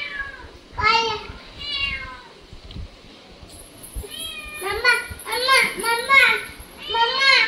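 A cat meows repeatedly, several drawn-out meows spread across the clip, with a voice and adult talk mixed in between.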